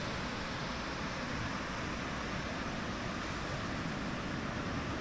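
Sea waves wash continuously onto the beach at Suan Wang Kaew in Rayong, Thailand, a steady, dense surf roar that holds even loudness throughout with no voices.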